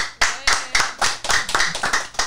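A few people clap hands at the opening of a Spanish-language show, a quick run of about ten sharp, close claps in an uneven rhythm with no talk over them.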